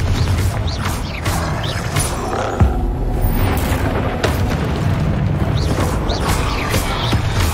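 Confringo fire-blast spells go off in the Hogwarts Legacy video game, with repeated booming bursts and mechanical clatter over a dense, steady game soundscape during combat.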